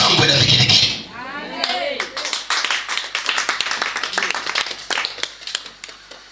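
A church congregation at a sermon gives a loud burst of cheering for about a second, then a preacher's voice carries on over scattered, uneven hand claps that keep popping up through the rest of the clip.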